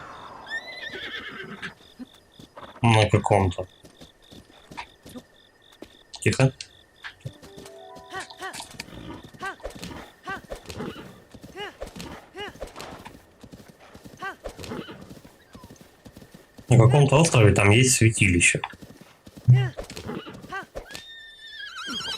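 Horse in The Legend of Zelda: Breath of the Wild, with rhythmic galloping hoofbeats running through and loud whinnies bursting out twice, while players talk over it.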